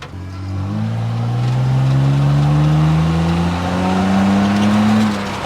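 A car engine revs and climbs in pitch while driving, loud and steady for several seconds with no voices; the car has been cut in half and widened, with traction control engaged.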